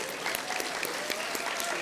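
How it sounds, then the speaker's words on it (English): An audience claps in a dense, steady round of applause at a CSUSB leadership event, the hand claps sounding moderately close and fairly even throughout. "Let's have another round of applause for these."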